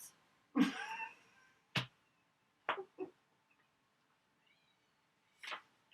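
A person imitates a cat, giving a drawn-out meow followed by several short, sharp mew-like calls spaced apart, fairly close, with quiet pauses in between.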